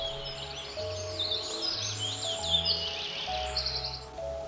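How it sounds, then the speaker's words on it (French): Birds sing and chirp steadily in a forest with shady walking paths, a dense high twittering chorus layered over a low, continuous hum of background noise. "bercées par le chant des oiseaux"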